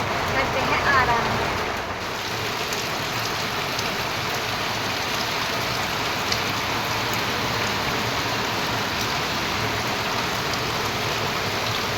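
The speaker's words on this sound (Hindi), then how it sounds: "आजकल दिन में एक बार भी आती है पर बारिश आती ही आती है, पता नहीं क्यों।" Steady, continuous rain falls with a dense, even hiss throughout, while a voice talks faintly underneath.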